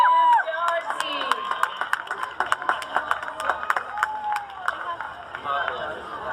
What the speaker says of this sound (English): Big round of applause for the Cannonballers, managed by Jim Darcy.